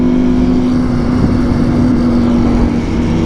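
Two sport motorcycles, an Aprilia RSV4 and a Ducati V4, rev hard side by side at a bike meet, giving a loud continuous engine roar with a steady droning tone and no talking.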